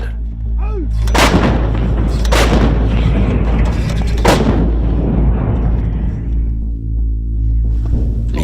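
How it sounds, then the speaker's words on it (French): A salvo from mortars and two French Army CAESAR howitzers in Mali, three heavy booming shots spaced about a second apart, each loud and sharp with a long rolling tail over a low steady hum. "L'ordre est donné aux mortiers et aux 2 canons César qui viennent tout juste de se déployer après un raid de 500 km, de tirer une salve de 12 obus"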